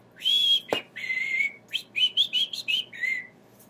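Someone whistles a bouncy tune in short, rising and falling notes, clear and close, with a sharp knock near the start and no talking.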